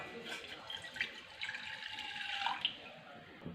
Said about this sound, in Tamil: ஒரு பேனில் 1 டம்ளர் போல் தண்ணி சேர்த்துடலாம்.